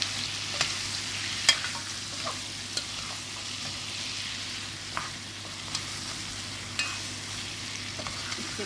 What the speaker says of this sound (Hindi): इसको मैं अच्छे से मिक्स करूँगी।